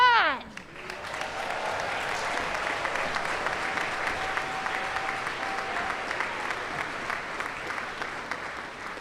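A large arena crowd at a Truman State University commencement applauds graduates in a sustained, even wash of clapping and cheering that holds steady throughout.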